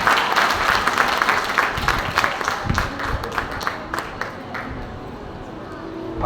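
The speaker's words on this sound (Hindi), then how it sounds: "तालियां तो बजा दिया करो।" Applause from an audience at an evening sermon, a dense burst of clapping that starts strong and gradually thins into scattered claps, with crowd murmur underneath.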